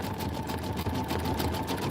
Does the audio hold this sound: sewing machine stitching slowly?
yes